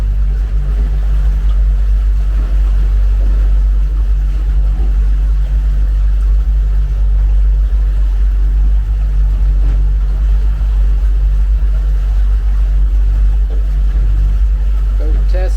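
A 2005 Boulton 18-foot boat with a Yamaha 90 HP outboard runs at a steady drone, a strong low hum under constant wind and water rush, with no break throughout.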